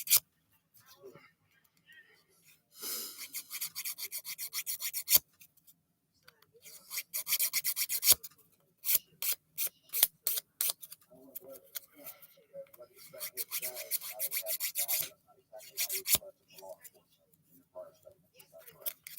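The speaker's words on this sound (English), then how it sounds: "That actually was really easy to file." Nail file rasping across a fingernail's sidewall and free edge in close, repeated bursts of scraping strokes with short pauses between, part of a DIY dip-nail session.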